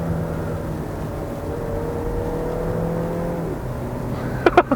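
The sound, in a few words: 2013 Volkswagen Golf 7 accelerating with quick gear changes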